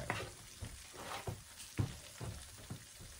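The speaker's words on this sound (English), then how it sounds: "And we're going to let that fry." Jamaican jerk chicken wings fry in hot oil, giving a steady quiet sizzle with soft crackles and pops recurring every half second or so.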